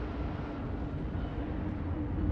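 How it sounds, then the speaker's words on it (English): A spaceship afterburner in EVE Online roars as a steady, dense engine rumble, continuous and fairly loud with no pauses. "Engage my afterburner"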